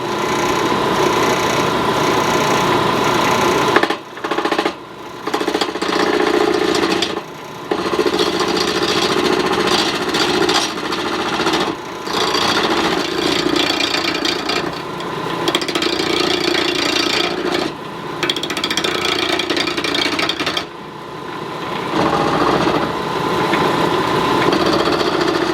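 Turning a vise handle blank down round on a lathe, a loud continuous machine drone with a gritty cutting rasp, broken by several brief dips where the cut pauses.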